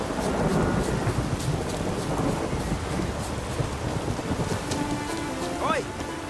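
Rain and thunder in The Witcher 3 game world, a low rolling rumble over a steady wash of rainfall, with a faint voice-like tone near the end.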